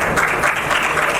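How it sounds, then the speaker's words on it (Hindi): An audience at a community stage ceremony applauds, a brief burst of dense, steady clapping from many hands that fills the space without pause. "तालियों के साथ।"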